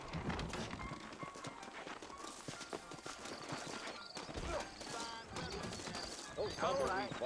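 Clip-clopping horse hooves from the video game Red Dead Redemption, with clattering sounds and a brief whinny, mixed with talking and other background noise.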